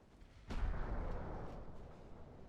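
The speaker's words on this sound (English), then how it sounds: "There's the torpedo launch." A torpedo launch in the naval warship game Ultimate Admiral Dreadnoughts arrives as one sudden muffled boom. A rushing tail fades slowly over the next two seconds, fairly quiet overall.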